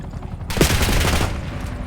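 Dense, continuous automatic gunfire from a video game during a helicopter mission, starting abruptly and holding loud and sustained with many overlapping shots.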